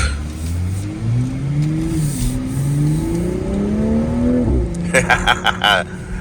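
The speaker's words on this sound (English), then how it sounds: "That's one of the things I love about this car is how it sounds. It sounds like a good old sports car." A 2024 MK5 Toyota Supra with the 3.0 engine revs repeatedly from inside the closed cabin, its pitch climbing and dipping in waves before settling, loud and close with occasional talk at the end.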